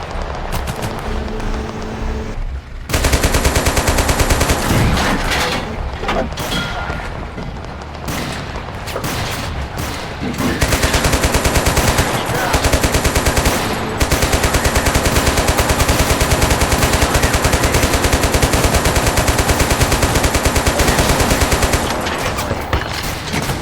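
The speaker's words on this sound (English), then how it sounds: "Open fire." Heavy gunfire and machine-gun bursts in a video game battle that blends Arma, Bannerlord and Total War, a dense, loud, sustained barrage after a quieter opening few seconds, with no talk.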